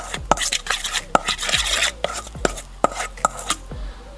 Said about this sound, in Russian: Хорошенечко перемешиваем.